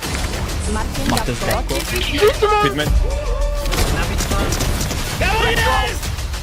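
Firecrackers bang in short irregular bursts under someone talking throughout, with sharp broadband cracks scattered across the clip.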